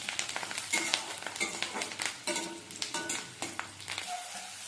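Chopped chilli, onion and washed curry leaves fry in a pan with a continuous moderate sizzle, broken by irregular crackles and stirring clatter.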